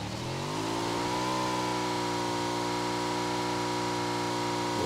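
A motorcycle engine in the PUBG video game revs up over the first second, then holds a loud, steady drone for the rest of the clip, with no talk.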